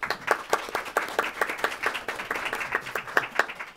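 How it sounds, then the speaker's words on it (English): Audience applauding panelists at a policy discussion event, brisk dense clapping from a modest crowd, fairly close and steady throughout with no talk over it. "Please join me in a round of applause for our panelists."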